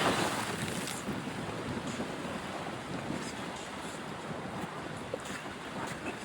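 Steady wind buffets the microphone over a broad roar of ocean waves at sunset, a dense continuous rush with no voices.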